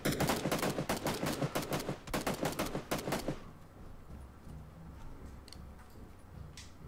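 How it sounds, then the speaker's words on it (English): Rapid bursts of automatic gunfire in a Battle Royale-style shooter match on Xbox, loud and dense for about three seconds, then cutting off to a quiet background with faint distant sounds. "I'm getting shot at."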